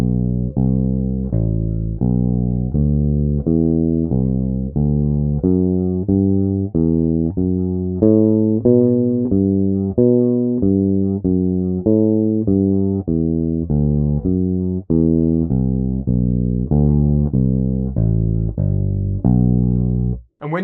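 Bass guitar slowly playing a daily scale drill up to the top and back down, with evenly spaced plucked notes, each sustained and fading, rising then falling in steady rhythm, loud and solo.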